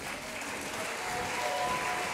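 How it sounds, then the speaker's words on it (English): Steady, dense audience applause at a chorus concert as the singers come onto the stage, sustained and evenly loud throughout with a faint tone or two threaded through the clatter. "So can we have a huge round of applause as they come onto stage?"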